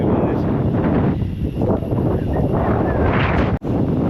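Strong wind buffets the microphone on a hilltop at the Vaamala Ayyappan temple, a loud continuous roar with gusty fluctuations and a brief cut near the end.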